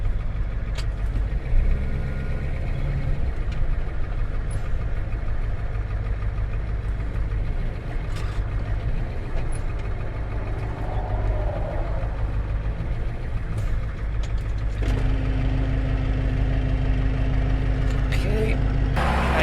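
Jeep XJ engine idling with a steady low rumble that shifts slightly in pitch partway through as it idles up, heard nearby with some talk over it.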